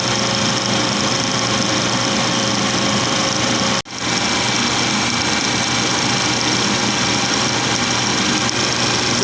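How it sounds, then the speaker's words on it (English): A milling machine with a small bit at low RPM finishing a 2 mm cut along a long strip, heard as a loud steady motor whine with a brief dropout partway through, then the same drone again. "So here I'm finishing up the 2 millimeter cut down on the long strip."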